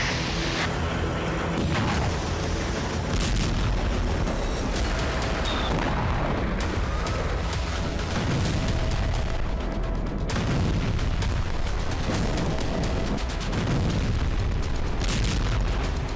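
War footage from Russia's Kursk region carries a continuous, loud roar of explosions and artillery fire, heavy booms and blasts overlapping one after another for the whole stretch.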